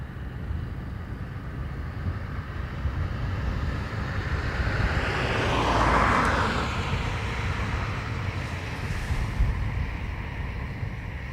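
A British Airways airliner takes off from runway 28 right at Dublin Airport, heard as a broad, steady engine roar mixed with wind noise, swelling briefly in the middle before settling, with no voices.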